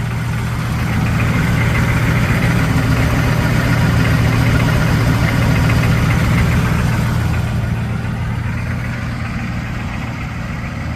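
A 1987 GMC R1500 pickup with a 6.2 V8 diesel idles close by, a loud, steady rumble with a faint rhythmic clatter that holds even throughout and eases slightly near the end, with no talking.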